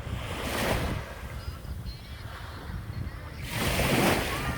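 Sea waves at Bang Saen beach at high tide on a winter morning, surf swelling and breaking in two loud washes at the start and end, with a softer wash between and some wind noise.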